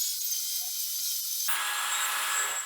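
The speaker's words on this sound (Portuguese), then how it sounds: "Então é isso que eu vou desbastar aqui na lixadeira." Electric power sander grinding down a curved wooden piece for a sanding clamp, a continuous loud motor whine with a sudden shift in pitch and texture midway as the wood meets the abrasive.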